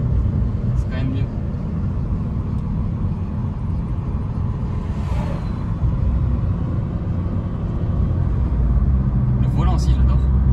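A petrol car engine runs steadily throughout as a continuous low rumble, with brief higher sounds near the start and end over the drone.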